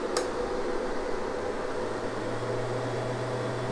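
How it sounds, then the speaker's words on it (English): Two large cooling fans on a Tianfour T200 SLA 3D printer run steadily after power-up, a constant close whooshing hum with a low tone settling in partway through, no talking. "It does have two big fans at the back there, so fairly noisy little printer."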